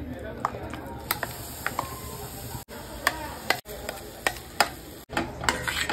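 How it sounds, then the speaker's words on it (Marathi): Amla paste is stirred in a kadhai, making sharp, irregular scraping clicks with a soft sizzle underneath and a voice talking over it. "आपल्याला हे मस्त मिक्स करून घ्यायचं आहे अगोदर"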